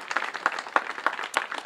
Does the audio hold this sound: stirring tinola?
no